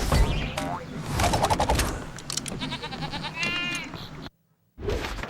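Cartoonish sheep bleats with bouncy, springy game sound effects, several in quick succession, ending in a brief silence before more noise.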